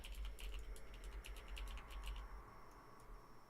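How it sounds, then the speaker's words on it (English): Quick, uneven keystrokes patter on a computer keyboard, close and fairly quiet over a low background rumble, thinning out toward the end. "I thought I was typing in the Twitch chat."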